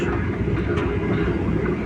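The Vande Bharat Express on the Puri to Howrah run, heard from on board as a loud, steady rumble of the moving train with faint rail clatter, continuous and unbroken.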